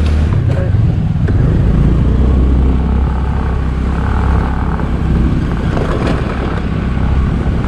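A scooter engine runs in a steady low rumble close by, overlaid by wind buffeting the microphone, with a voice speaking intermittently over it.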